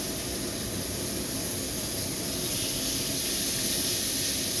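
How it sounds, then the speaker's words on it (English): Swordfish steaks sizzle on a very hot grill pan, a steady broadband hiss that holds evenly throughout and swells slightly toward the end, with no talk over it. "I've got our swordfish steaks here. The grill pan is heaping good and hot."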